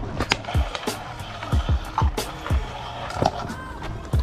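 Skateboard rolling fast downhill in Brno, steady wheel roar punctuated by regular clacking thumps roughly every half second, close and loud, with a little talk in the background.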